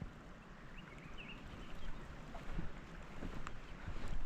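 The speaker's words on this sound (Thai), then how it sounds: "มีทรายน้ำไหลผ่านหน้าเหือนแบบนี้" A stream of water runs past a house in a Khmu ethnic village at Nam Kat Yorla Pa, Oudomxay, Laos, giving a steady, broad rushing wash with some wind noise that swells slightly louder toward the end.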